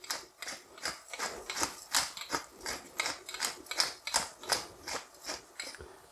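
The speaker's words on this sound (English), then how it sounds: "And a good few grinds of pepper." Pepper mill grinding pepper over a wild mushroom risotto, a steady run of about a dozen quiet, rhythmic crunching clicks, close and alone.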